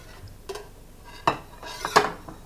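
A flat spatula scrapes a stainless steel pan in a few short metallic strokes with clinks, loudest near the end, close and clear with no voices.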